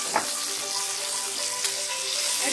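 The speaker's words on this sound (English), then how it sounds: "keep the flame on high and put all the asparagus" Asparagus fries in a pan over a high flame, giving a continuous bright sizzle with a couple of sharp spits and pops rising out of the steady hiss.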